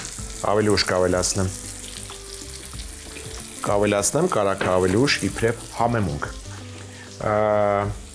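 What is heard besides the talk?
olive oil frying in a pan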